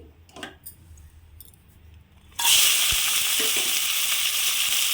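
Brinjal pieces hit hot oil in a pan and break into a loud, steady sizzle that continues to the end, after a couple of seconds of quiet handling clatter.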